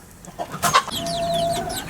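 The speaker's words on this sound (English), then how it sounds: "simply let the hen and the chicks out" A hen and her chicks in a backyard coop in a suburban garden, with brief clucks and a thin sustained chick peep over soft background noise, close and moderately quiet.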